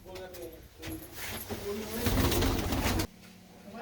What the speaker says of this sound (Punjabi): ਬਹੁਤ ਹੀ ਚੰਗਾ ਕਬੂਤਰ ਹੈ